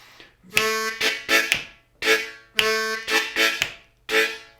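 A bright, reedy harmonica plays a repeating 12-bar country blues riff following the IV chord, sharp, punchy notes and bends, twice through the same pattern, loud and close.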